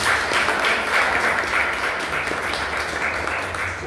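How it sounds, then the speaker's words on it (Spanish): An audience at a talk on problematic substance use and addictions gives sustained applause, a dense even wash of many clapping hands heard throughout without a break. "Un aplauso para"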